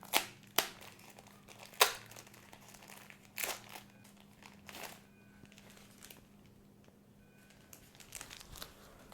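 Xiaomi Smart Band 8 packaging is opened with scattered crinkling, tearing and sharp plastic snaps, close and fairly quiet, separated by short pauses over a low steady hum.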